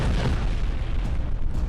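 A large bomb blast set off as a test, heard as a dense, loud, continuous rumbling boom that fills the whole clip with heavy low-end roar and no voices.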